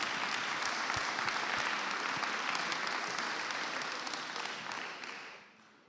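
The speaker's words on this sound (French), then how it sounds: "je pense qu'on peut les applaudir également" An audience applauds the event partners at the MN2020 trophy ceremony for the Homo Numericus and Femina Numerica awards, a steady wash of many hands clapping that fades away toward the end.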